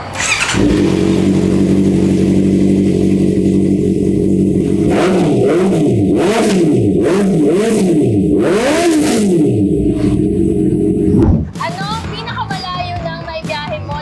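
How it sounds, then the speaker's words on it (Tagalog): A Honda inline-four motorcycle engine idles loudly, then revs up and down several times in rising and falling whines before cutting out, with faint voices afterward. "Ito ay Honda Big Bike na merong inline 4 na makina."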